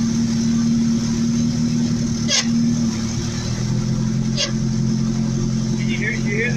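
A truck engine runs steadily with its entire exhaust system fallen off, a loud, constant rough drone close by, broken by a couple of brief sharp ticks.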